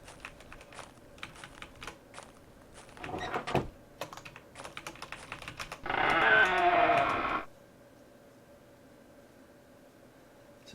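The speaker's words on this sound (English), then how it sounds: "Nope, it has some sheep." A sheep bleats in the video game Unreal World, one loud, drawn-out nasal bleat rising over a background of rapid computer keyboard typing and clicks, followed by quiet.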